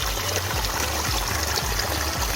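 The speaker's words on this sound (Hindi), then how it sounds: "ऊपर से ये पानी आ रहा है" Spring water in a Kashmir village pours down steadily from above, a loud, continuous rushing flow with a soft rhythmic pulse underneath and no voices.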